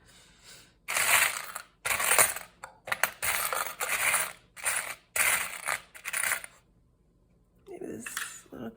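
Small metal keys for a junk journal project jingle and clatter close by in repeated bursts, rattling against each other with short pauses, then a softer shuffle at the end.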